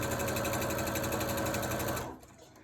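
A sewing machine runs a long basting stitch on a wolf mask, a steady, close, loud mechanical whir that holds for about two seconds and then stops abruptly.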